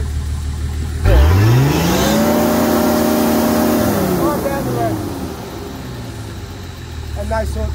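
A diesel engine revs up sharply to about 5,000 rpm, holds a high steady drone, then winds back down, loud and close.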